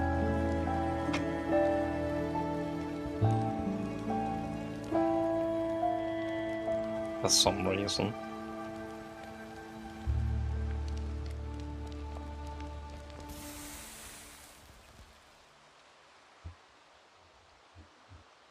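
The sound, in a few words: rain falling in a survival video game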